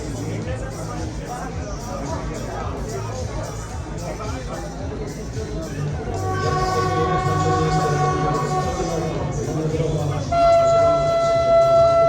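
Dolnośląskie regional passenger train pulling into platform 3, track 12, at Żagań station during a locomotive parade; rumbling approach rises with brake squeal tones, over crowd murmur and a loudspeaker announcement.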